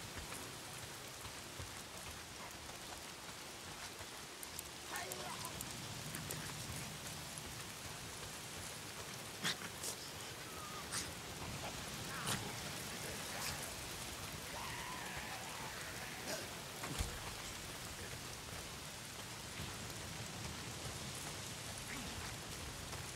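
Steady rain falls throughout a wilderness scene in the Days Gone video game, a continuous dense hiss with scattered louder drops and small knocks near the listener, and no talk over it.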